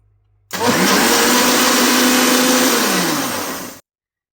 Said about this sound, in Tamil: இப்போ இதை நம்ம மிக்ஸி ஜாரில் போட்டு அடிச்சுக்க போகிறோம்.